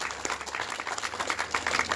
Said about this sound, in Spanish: las palmas calurosas para el regidor Pedro Escobedo